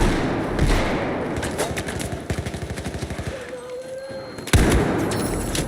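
Gunfire in Battlefield 4 comes close and loud as a rapid burst of automatic shots followed by single heavy thuds, over constant battlefield background noise.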